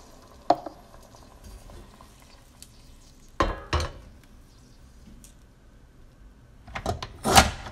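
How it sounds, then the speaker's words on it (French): Hot water poured into a pot of frying fennel tajine brings sharp clanks of pot and utensil, with a loud hissing, splashing burst near the end amid quieter stirring; no one speaks. "je vais mettre de l'eau chaude, 250 ml"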